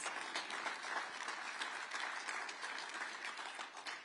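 An audience at a political summit in Iowa applauds, sustained, fairly distant crowd clapping that fills the hall evenly with no voices on top.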